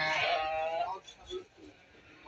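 A sheep at a farm show lets out a loud, drawn-out bleat up close, followed by quieter murmurs and softer animal sounds.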